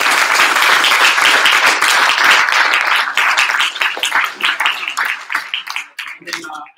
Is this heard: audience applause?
yes